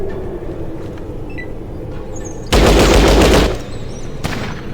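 A loud burst of automatic gunfire from the tactical game Fallout Tactics erupts for about a second amid quieter ambient noise, followed by a single sharp later shot.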